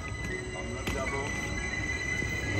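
A train at a platform on the lowest floor of Zurich main station lets out metallic wheel squeals and rumbling over echoing station ambience.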